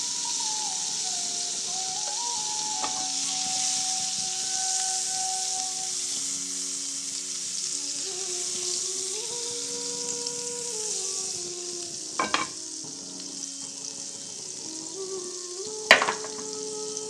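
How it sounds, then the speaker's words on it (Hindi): Burger buns toasting in butter in a pan give a steady, close frying sizzle and hiss that runs throughout, broken by a couple of brief knocks or scrapes near the end. "हमारा जो बर्गर बन है वो कुक होगा बटर में"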